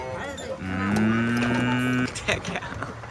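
A toy milking cow at a children's theme park in Nuremberg, Germany lets out one long, loud electronic moo lasting over a second, followed by faint background noise.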